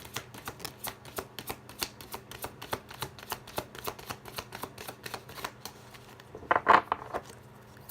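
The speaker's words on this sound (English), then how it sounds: "like you hear how the shuffling is" Tarot cards being riffled and shuffled by hand, a steady run of quick crisp snaps close to the mic, ending in a brief louder flutter near the end.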